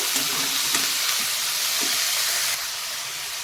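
Onions and tomatoes frying in a pan for chana masala, producing a dense, steady hiss and sizzle with a few soft stirring knocks, close and constant throughout.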